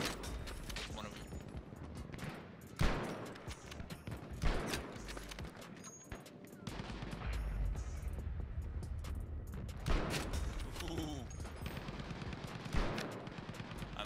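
Krag-Jørgensen rifle fire in a video game comes as sharp, spaced shots, some louder than others, over a continuous bed of game noise and bursts of other gunfire.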